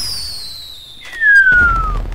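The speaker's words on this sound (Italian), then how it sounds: "Di prendere il nostro bellissimo cannone pirotecnico e di fare" A fireworks cannon fires in GTA Online: a descending whistle glides down over two seconds, then a loud low boom bursts close by.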